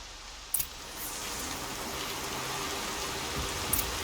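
Steady rainfall in the video game Horizon Zero Dawn hisses continuously, with a couple of brief clicks and knocks near the start and end.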